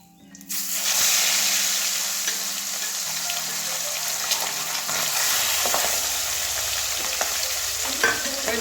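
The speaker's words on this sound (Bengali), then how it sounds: "এই যে এইভাবে ভেজে নিয়েছি, এবারে আর দুটো ওইভাবেই ভেজে নেব।" Pabda fish pieces fry in hot oil, with a loud hissing sizzle that starts suddenly and holds steady at close range, with occasional scrapes and light pops.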